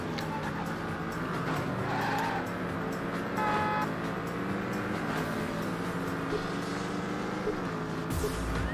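Racing car engine in the video game Test Drive Overdrive on Xbox, a steady loud engine drone with shifting revs, punctuated by tire skidding and squeals, continuous throughout with no speech.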